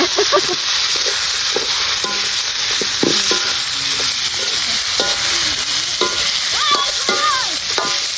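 Wild boar meat stir-fries in a hot pan for a spicy Thai dish, a loud continuous sizzle with scraping stirs and clatter throughout, and a voice faintly heard in the background.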